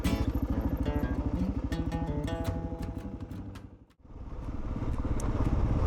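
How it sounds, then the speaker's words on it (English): 2010 Kawasaki KLR650 single-cylinder motorcycle with upgraded suspension riding a dirt track, its engine thumping loud and close with a rhythmic beat, dipping briefly as the throttle closes and then pulling hard again. "let's hit the next track and see how the big KLR650 handles it with the new suspension."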